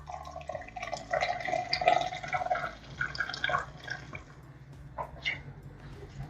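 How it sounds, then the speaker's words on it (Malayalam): Hot water poured into a cooker of egg biryani, an irregular splashing and trickling in close, uneven bursts that rise and fade over several seconds, with no voices. "ഇതിലേക്ക് നമുക്ക് വെള്ളം ഒഴിച്ച് കൊടുക്കാം."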